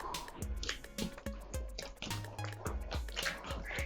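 Water is poured and worked into bread dough during kneading. Wet drips, squishes and slaps come at a quick, uneven pace, close and fairly soft, with no talk over them.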